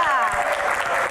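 An indoor audience at a Q&A event with panelists and guests claps in a continuous dense burst, while a voice carries over the top of the applause.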